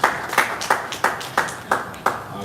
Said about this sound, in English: A round of applause as welcome.